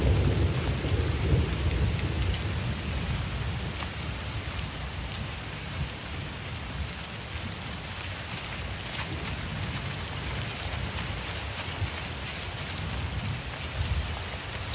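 Heavy November rain pours steadily onto parched ground as low rumbling thunder rolls beneath, a dense, continuous wash of drops with deeper booms strongest at the start.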